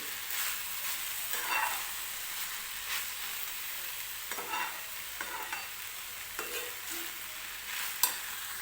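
Spring onion greens cook in a kadhai with a soft continuous sizzle, broken by several stirring scrapes, fairly quiet and close, with no voices.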